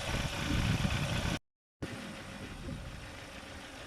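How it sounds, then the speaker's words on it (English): A 2014-2016 Kia Sorento engine runs smoothly at idle, a quiet steady hum that drops out briefly and returns, with no voices. "the engine sounds good and smooth"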